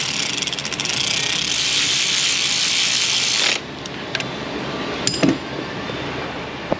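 Ratchet wrench tightening bolts on the engine of a 2003 Ford Mustang GT 4.6, a steady loud run of rapid clicking for about three and a half seconds, then quieter scattered metallic clinks.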